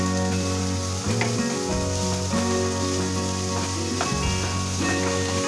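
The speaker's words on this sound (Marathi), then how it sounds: "आता आपण गाजर टाकून घेऊया आणि हा कोबी घालून घेऊया आणि याला परतूया छान" Onion, carrot and cabbage sauté in a pan over high gas heat, giving a steady, close, continuous sizzle with a few stirring bumps beneath a constant tonal musical backing.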